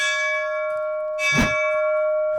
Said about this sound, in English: she actually rings a bell